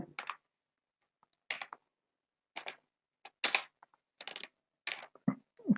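Computer keyboard typing: short clusters of close, crisp key clicks separated by brief silent pauses, uneven in rhythm, quiet, with no speech.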